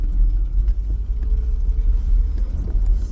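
Inside a car pulling up on the way to work, a steady low engine and road rumble holds throughout, with faint small rattles and clicks over it and no voices.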